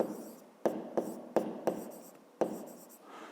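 Pen or marker writing out math notes in a fifth-grade volume exercise, a series of short scratchy strokes with quick taps between them, close and clear with no talking.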